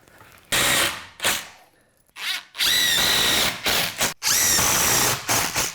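A power drill drives 2.5-inch screws into a garage workbench frame: loud, close whirring bursts of varying length, separated by short pauses, with no talking.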